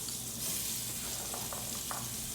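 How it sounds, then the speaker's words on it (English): Quartered onions and carrots sear in hot oil in a pot with a steady, close sizzle and crackle, with a few faint stirring clinks. "we're going to add into the oil 2 onions that are completely quartered and 4 carrots,"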